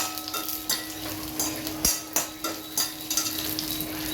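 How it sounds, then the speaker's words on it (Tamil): Spices fry in a pan on a cloudy, windy day, crackling and sizzling while a utensil gives repeated sharp taps and scrapes against the metal at close range. "அதை கொஞ்சம் வறுத்துக்கிறேன்."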